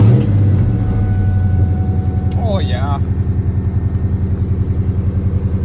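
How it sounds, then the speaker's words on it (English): A New Edge Ford Mustang engine fitted with an idle air control valve restrictor plate fires up and settles into a loud, steady, rhythmic idle above 1,000 RPM, with a brief voice over the running engine. "we get to hear the car go vroom."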